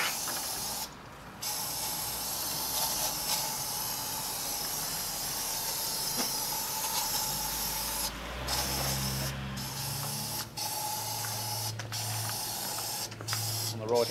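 Degreaser sprays from a nozzle in short hissing bursts, loud and close, with pauses between them and a low rumble entering partway through.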